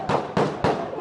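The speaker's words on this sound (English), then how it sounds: "Multiple gunshots heard at the scene of an otherwise peaceful election." Three sharp gunshots ring out at an election scene, sudden loud cracks spaced roughly a quarter second apart, each with a short echoing tail.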